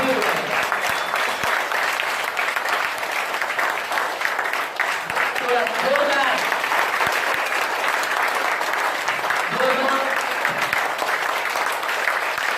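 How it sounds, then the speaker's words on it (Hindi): A large standing audience of about 2,800 people at a motivational training seminar in Bombay claps with hands raised, a dense, steady roar of applause lasting throughout, with a few voices shouting over it. "खड़े होकर ऊपर हाथ करके ताली बजाइए"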